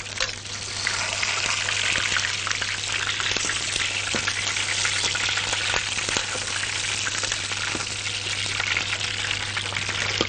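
Onions frying in a pan with salt and black pepper give a loud, continuous close-up sizzle and crackle, with a low steady hum underneath and no talking.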